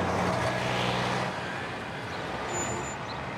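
Cars pass along a street, picked up by microphones placed on the vehicles, a broad moderate roadway rush that swells early and then settles into a steadier, quieter hiss with a faint high whine near the end.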